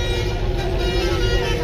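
A bus horn playing the telolet melody sounds at a roadside in Ciamis, its steady tonal notes over crowd chatter and traffic rumble.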